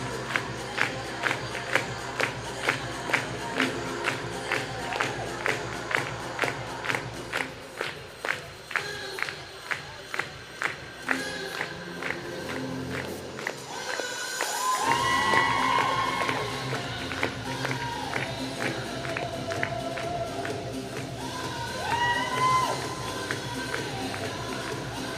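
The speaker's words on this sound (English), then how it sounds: "The crowd really getting behind them" Spectators at a synchronised skating competition in London cheer and shout over loud pop music played for a team's routine, the crowd noise swelling midway and staying steady under the beat.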